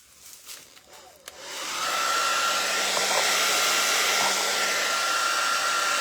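A hair dryer blows steadily on painted stars decorating a door hanger, starting abruptly after a few faint handling sounds and then holding a loud, even whooshing roar with a faint whine to the end.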